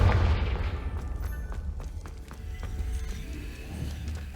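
Confringo blasting spell going off in the video game Hogwarts Legacy, a heavy booming burst up front that fades into a rumbling tail over several seconds, with faint crackling debris behind it.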